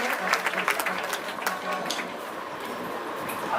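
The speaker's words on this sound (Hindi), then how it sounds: "एक बार सभी इंद्रों के स्वागत में एक बार जोरदार तालियां" Loud applause from a crowd welcoming the Indras at a Jain religious ceremony, a steady rattling wash of clapping that fades slightly toward the end, with a voice talking over it.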